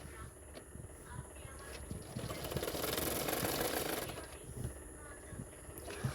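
A sewing machine runs steadily while stitching padded blouse fabric, a close, continuous whirring with rapid rhythmic needle clatter that swells louder through the middle of the run before easing off.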